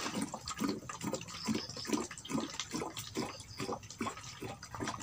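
Coconut water is poured into a container for a 23-litre batch of homemade liquid fertilizer, a continuous close splashing stream with a faint pulsing rhythm and no talk.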